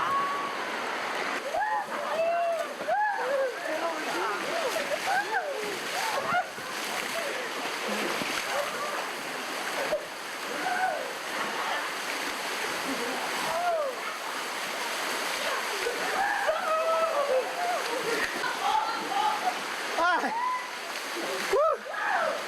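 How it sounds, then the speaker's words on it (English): Whitewater rafting on a river, with water rushing and splashing steadily around the raft for a long stretch, loud and close, while people shout and talk over the churning noise. "That's water rafting. I wasn't expecting water rafting like this."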